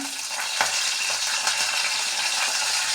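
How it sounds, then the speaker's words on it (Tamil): Spices sizzle in hot oil for a moong dal tadka: mustard seeds, cumin, red chili and curry leaves crackling as they fry, a steady loud broadband hiss with brief pops and spatters, no voices. "மூங் தாலுக்கு தேவையான தட்கா பண்ணுறேன். எண்ணெய் வச்சுருக்கேன், காஞ்சிருச்சு."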